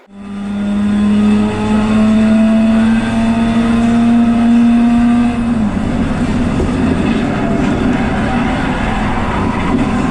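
Race car engine from the video game Assetto Corsa, with an RX8 in the race, as a loud, close, sustained drone that holds a rising tone for several seconds and then drops and roughens into a steady roar.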